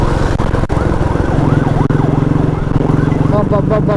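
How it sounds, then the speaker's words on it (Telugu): An ambulance siren wails in a rising and falling pattern on a road in Kerala, loud and close over steady engine and road noise, heard from a moving motorcycle. "oh ambulance side side side"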